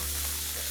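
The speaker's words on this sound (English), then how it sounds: "Saute this till the raw smell goes off." Ginger and garlic paste sautéing in a pan gives a brief, steady hiss and sizzle, close and continuous with no voices.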